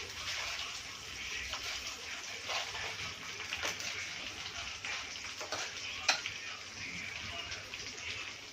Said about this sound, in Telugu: పోపు దినుసులనే యాడ్ చేసుకోవాలి